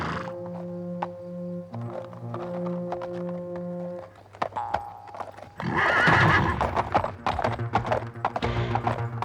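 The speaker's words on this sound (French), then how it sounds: "J'ai entendu le pas d'un cheval." Horse hooves clip-clopping in a steady walking rhythm, with a whinny, first over held musical tones and then louder and closer.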